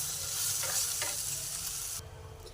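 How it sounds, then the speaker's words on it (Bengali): Chowmein made from wheat flour noodles and vegetables fries in a pan with black pepper, a steady hissing sizzle with scraping stir strokes. The sizzle stays close and even, then drops quieter near the end, with no voices. "এগুলো সব দিয়ে আমি একটু ভেজে নেব।"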